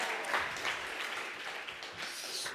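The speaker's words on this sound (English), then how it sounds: "Yeah, they needed a big round of applause." An audience at the Hack Manchester 2013 award ceremony gives a steady, moderately loud round of applause, dense clapping filling the whole stretch without voices.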